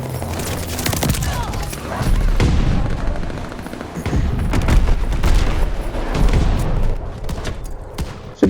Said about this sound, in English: Friendly bombing run in. And I've got me firebombing run coming in as well.